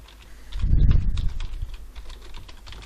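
Keyboard typing on a computer as a video name is entered, with light, close key taps scattered across the clip and one louder, dull thump near the start.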